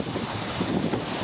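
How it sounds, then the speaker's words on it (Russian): A car driving through flood water on a rural road during bad weather gives a steady rushing wash and splashing hiss, fairly faint and continuous with no talk. "Вот как проехали по воде."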